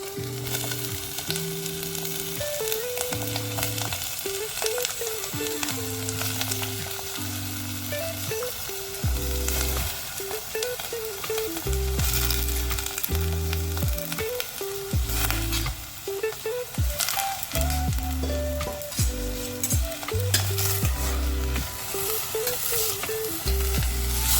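Elephant foot yam frying in a pan for sambar, a steady loud sizzle with repeated stirring scrapes, and a low musical backing throughout.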